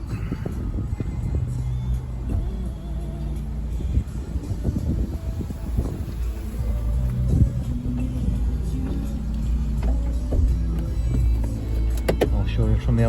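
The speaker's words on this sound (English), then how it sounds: "Keeping your finger on and the windows come up." Electric motors on a Vauxhall Cascada convertible with a black canvas roof raise the windows, a continuous low mechanical whir running steadily throughout, heard close inside the car while someone talks over it.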